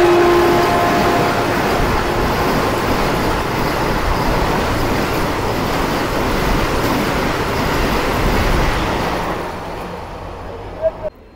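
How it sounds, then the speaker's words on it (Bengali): The Jammu Tawi–Kolkata Jammu Tawi Express pulls into a station with a loud, steady rumble of wheels and carriages that holds for about nine seconds before easing off, a brief tonal horn-like note at the start. "বন্ধুরা, ঢুকছে আমাদের ট্রেন"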